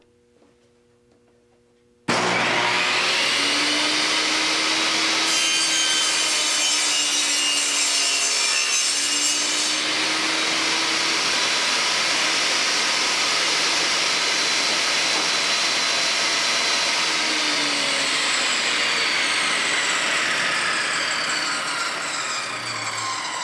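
A power saw bites into wood with a loud, steady, continuous whine and rasp for about twenty seconds, starting abruptly after a quiet moment, its pitch dipping slightly as the cut loads up, close and dominant.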